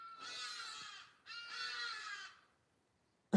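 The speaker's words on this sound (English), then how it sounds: "We hear the birds." Two long, harsh caws from a big bird, likely a crow, each about a second, loud and close with a short gap between, followed by silence and a sudden thump at the end.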